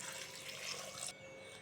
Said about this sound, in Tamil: 1/2 லிட்டர் தண்ணி சேர்த்துக்கிறேன்.